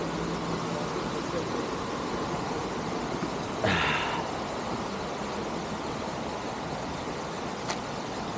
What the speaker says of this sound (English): So this is the Juan Diego Creek.